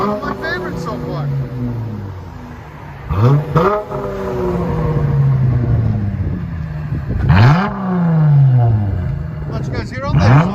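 Dodge Challenger with a 3.6L V6 and Big Boys Exhaust revs repeatedly, sharp rising blips falling back to a deep rumbling idle, loud and close, with a person talking over it.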